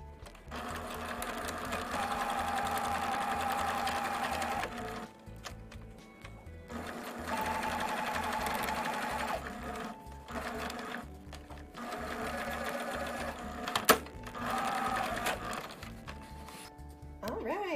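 A sewing machine stitches along the bottom edge of a cloth face mask, running in long steady whirring bursts of several seconds, separated by short pauses. The sound is close and clear.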